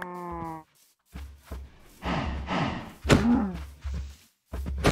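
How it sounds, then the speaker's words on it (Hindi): A cow in the Minecraft video game moos loudly several times in close succession, with low thumps between the calls. "गाय गाय"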